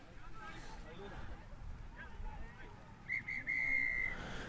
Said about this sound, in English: as we hear that final whistle for the final time here today on pitch 4